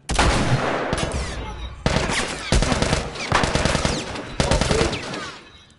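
Machine gun fire in The Last of Us video game: several long, loud automatic bursts in close succession, each a dense rattle of rapid shots with brief gaps between them.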